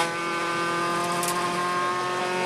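A Mini rally car on a snowy Austrian rally stage wails at high revs, its engine note steady and loud with strong sustained harmonics, close by for the whole stretch with no talk.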